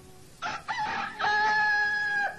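A rooster crows once, a loud and close call with a stuttering start that swells into a long, held, high note.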